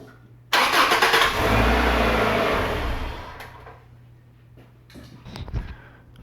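A Subaru Legacy engine cranks and catches after a fresh alternator replacement, then runs with a loud steady roar for a few seconds before settling to a quieter idle with some clunks and rattles.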